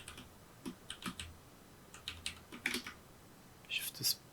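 Keyboard shortcut keys are pressed in short clusters of soft clicks on a computer keyboard, faint and close, while a voice speaks quietly alongside.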